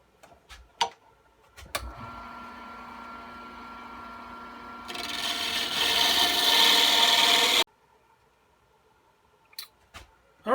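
Wood pen blank spinning on a lathe for a Vertex pen kit: a steady motor hum with a scraping cut that grows louder and harsher for a few seconds, then stops abruptly, followed by light knocks.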